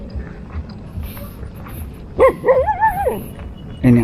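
A dog on a roadside near a bridge gives a few soft whimpers, then a short rising whine and a brief bark, over quiet outdoor background noise with a voice faintly present.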